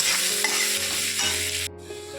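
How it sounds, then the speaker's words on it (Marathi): Finely chopped onion sautéing in a pan for a veg pulao, a steady close sizzle with a brief stirring scrape and a short dip near the end. "त्याच्यात आता बारीक चिरलेला कांदा टाकूया"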